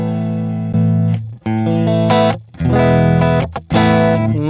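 Electric guitar played through a Valeton GP-5 for a signature tone, with a ROS compressor used as a post-amp booster at sustain 20 and volume 50. Loud, sustained chords ring out in several strums, with short gaps between them.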